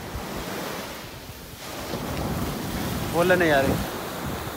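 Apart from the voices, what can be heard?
sea waves on the beach in Dubai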